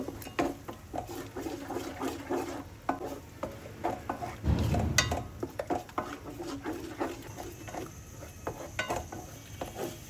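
Two eggs are stirred and broken up in a pan with onions fried earlier, producing a soft sizzle under repeated scraping and tapping of a utensil against the pan, close and fairly quiet.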